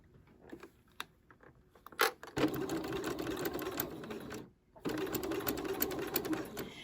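Sewing machine stitching in the ditch of a summer dress seam at stitch length 3, with a few taps and clicks, then two bursts of rapid, close, loud whirring stitching broken by a brief pause.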